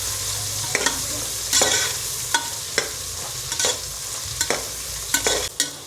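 Onions frying in a pan until light pinkish for a corn paneer pulao, a steady sizzle broken by repeated sharp scrapes and clatters of stirring, close and fairly loud with no talk.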